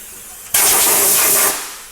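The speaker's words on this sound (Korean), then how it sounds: "파츠 클리너를 뿍 뿌려서 닦아드리는 이유가" Parts cleaner sprayed onto a BMW E92 M3 engine after an oil job gives a loud, steady aerosol hiss, starting abruptly and running for about a second before tapering off, with no talk.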